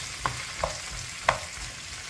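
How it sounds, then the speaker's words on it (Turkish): Peppers sizzle steadily in a hot frying pan, broken by a few soft clinks and scrapes as they are stirred. "biberlerimizi karıştıra karıştıra güzelce kızartalım"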